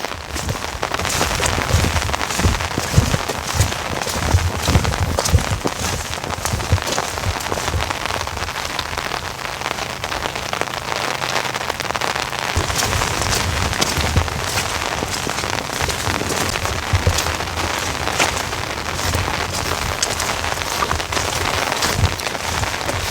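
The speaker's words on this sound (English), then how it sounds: "Still drizzling too" Light rain patters and hisses evenly on high desert ground nearby, a constant wash of drizzle with no voices.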